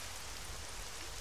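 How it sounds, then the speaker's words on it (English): Rain falling in a zombie survival video game, a steady, faint, even hiss of drops with no other sounds. "I need to get out of this rain so I can see further."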